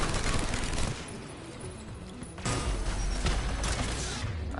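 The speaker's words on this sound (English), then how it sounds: "Turret! I've got a turret as well in my hands." A handheld turret in Mass Effect Legendary Edition fires continuously, a dense loud mechanical rattle of rapid rounds that eases slightly, then surges again.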